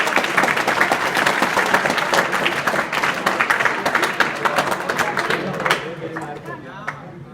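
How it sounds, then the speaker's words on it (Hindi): An audience claps steadily at a school adolescent education program at Narayan Inter College in Azamgarh. The dense crowd applause runs for several seconds and then thins out toward the end. "अच्छी ताली अपने लिए बजा दीजिए।"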